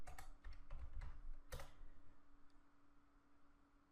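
A computer keyboard is typed on while code for a PrestaShop module is entered, giving a few quick, soft key clicks near the start and one sharper tap, over a faint steady background hum with no talking.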